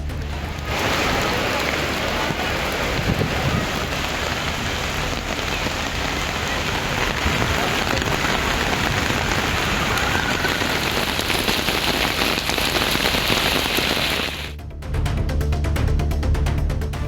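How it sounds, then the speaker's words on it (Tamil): Heavy summer rain pours down in Tirupati, a loud, dense, continuous drumming of drops on surfaces that holds steady throughout, with a brief shift in tone near the end. "திருப்பதியில் கோடை மழை சுமார் 1 மணி நேரம் வெளுத்து வாங்கியது."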